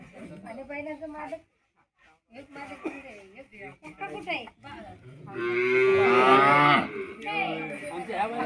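A bull moos once, loud and close, during the Bail Pola (Bendur) festival in a Satara village, between stretches of people talking.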